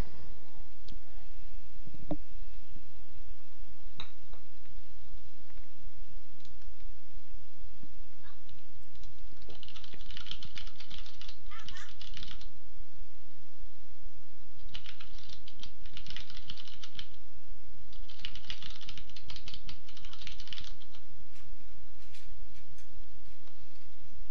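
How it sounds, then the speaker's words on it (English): Soft, scattered computer keyboard typing, bursts of quick key clicks at a moderate distance over a quiet background hum, without any talking. "I'm typing to the chat here"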